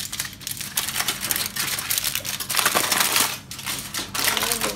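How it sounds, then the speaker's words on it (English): Aluminium foil pressed and crinkled by hand over a Hyderabadi chicken dum biryani pot, a steady run of close, loud crackling and crumpling across the whole stretch, with no talk. "We will seal with the foil."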